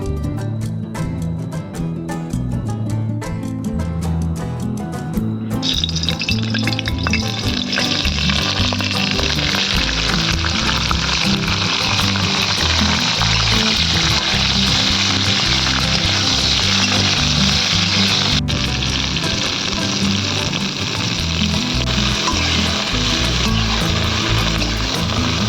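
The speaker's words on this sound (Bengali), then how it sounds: "এরপর ফুলকপিটি ভেজে নেব।" Cauliflower fries in oil, a loud, dense, continuous sizzle that swells after a few seconds and holds steady close up, with some crackling throughout.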